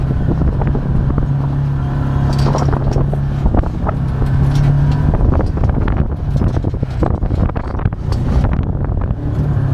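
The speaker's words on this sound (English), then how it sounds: "Driving through the combination of a sandstorm and a storm" Heavy wind roars and buffets the microphone as a Can-Am Commander side-by-side drives through a sandstorm and rainstorm near Moab, with loud, continuous gusting and engine rumble beneath and no talk.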